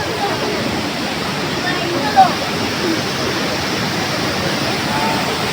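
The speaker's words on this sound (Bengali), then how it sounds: "ওই যে জল, দেখ জল।" Steady rushing water flows like a small waterfall or channel beside a temple, a loud continuous wash filling the whole stretch with no break, while a voice speaks over it.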